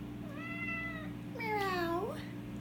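A domestic cat meows twice up close, first a short, level meow and then a longer one that falls and rises, heard over a low steady hum.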